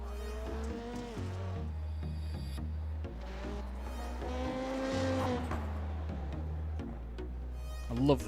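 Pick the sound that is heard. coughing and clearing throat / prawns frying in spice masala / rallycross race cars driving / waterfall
rallycross race cars driving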